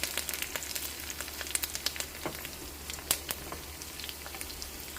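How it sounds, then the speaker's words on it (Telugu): Crushed garlic and curry leaves temper in hot oil, making a faint, quiet sizzle scattered with sharp crackles and pops. "కరివేపాకు వేసాను సో ఇప్పుడు ఇది పోపు కొంచెం వేగాలి"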